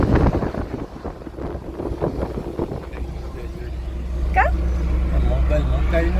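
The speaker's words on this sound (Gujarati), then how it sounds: "એકદમ ઠંડો પવન આવ્યો" Cold wind blowing around a vlogger on a Mumbai roadside where a bus had been standing, a steady broadband rush and low buffeting rumble that runs throughout, with traffic noise and voices talking over it.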